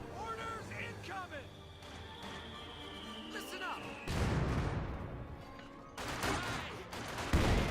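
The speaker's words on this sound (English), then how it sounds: "Light artillery barrage into the MG34 with a blob of conscripts" Company of Heroes 2 battle with a light artillery barrage and gunfire, scattered shots and whistles giving way to heavy crashing explosions, while casters talk over the fighting.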